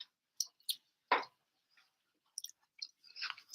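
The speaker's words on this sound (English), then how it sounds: "Excuse me while I chew." Chewing plain white rice close to the microphone, a few soft, moist bites and smacks scattered across a few seconds, separated by silence.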